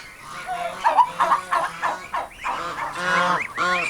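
A mother goose guarding her goslings honks loudly and repeatedly at close range, with a rapid run of harsh, nasal calls that rise and fall in uneven bursts.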